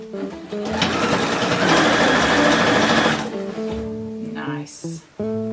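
A sewing machine stitches bias tape close to the edge of a boxy dress, running in a steady loud whir for about three seconds and then slowing and stopping, while someone speaks softly around it.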